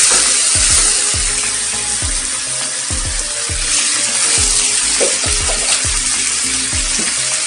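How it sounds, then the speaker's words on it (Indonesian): Carrots sizzle and fry loudly in a home pan for mie tek tek while water is added, and a spoon scrapes and stirs in repeated strokes. Steady crackling hiss runs throughout, close up, with no voices. "Kita tambahkan sedikit air dulu ya, supaya wortelnya nanti cukup lunak."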